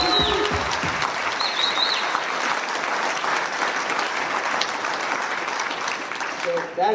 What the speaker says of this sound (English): So if we would, give her a round of applause.